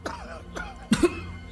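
A short, close pair of coughs from a character in Marvel's Spider-Man video game, set against faint game background sound.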